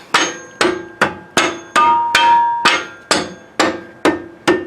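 A hammer strikes a steel lift bracket onto a Jeep Wrangler JKU axle tube during a Rancho 3-3.5 inch lift install, ten sharp metallic blows in a steady rhythm, loud and close with ringing decay.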